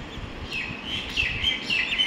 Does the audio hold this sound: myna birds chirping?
yes